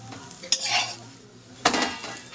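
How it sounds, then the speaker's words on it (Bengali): Parathas frying in a pan, a soft sizzle punctuated by two sharp clatters of a utensil against the pan, close by and with no talking. "এখন পরোটাগুলো ভেজে নিচ্ছি।"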